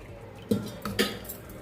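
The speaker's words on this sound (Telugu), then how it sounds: "నానపెట్టుకున్న శనగల్ని మళ్ళీ రెండు మూడు సార్లు బాగా కడిగేసేసుకొని ఇవన్నీ కూడా మనం కుక్కర్లో వేసేసుకుందాము" Soaked chickpeas tumble into a pressure cooker with three short metallic clinks and rattles, close and fairly quiet.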